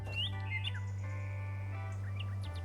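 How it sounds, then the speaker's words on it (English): A loud bird calls indoors with a series of sharp chirps and squawks, near and prominent over a steady low electrical hum, with no talk. "It is a very loud bird."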